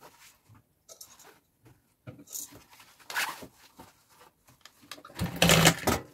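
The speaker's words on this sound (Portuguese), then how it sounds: "É só uma costura de segurança para ficar tudo no lugar." A sewing machine runs in short bursts while joining the lining and base of a baby diaper bag, with quick stitching runs, brief pauses and handling noises close by.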